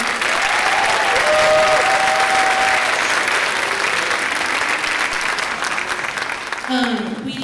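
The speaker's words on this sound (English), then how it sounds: "So let's give them a round of applause" Sustained applause from a school spring concert audience honoring student musicians who earned a superior rating, dense and steady throughout, with a few voices rising briefly near the end.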